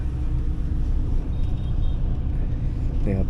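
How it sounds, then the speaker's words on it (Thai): Evening rush-hour traffic in Ho Chi Minh City with swarms of motorcycles, a continuous engine rumble and road noise heard from inside a moving minibus, with a brief brake-like squeal near the end. "สภาพการจราจรของที่กรุงโฮจิมินห์ครับ ขาค่ำไปด้วยฝูงมอเตอร์ไซค์นะฮะ"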